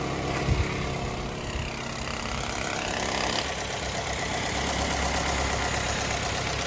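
A used car bought at auction for $2300 idles steadily, its engine running as a continuous, even rumble with a faint mechanical tick and no voices over it.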